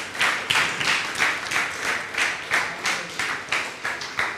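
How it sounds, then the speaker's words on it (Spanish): Church congregation clapping in a steady, rhythmic beat at a Spanish-language Sunday morning service, loud and lively with no talk over it. "Démosle un fuerte aplauso al Rey de Gloria en esta mañana."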